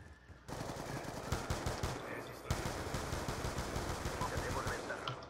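Automatic gunfire in Black Ops 2 on PC, switched to full auto, rattling in dense rapid bursts that run almost continuously after a brief quiet start, with a louder shot midway.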